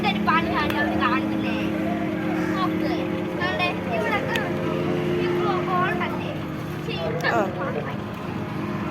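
A motorboat engine drones steadily at a moderate distance, a constant low hum under an excited group of people talking and calling out.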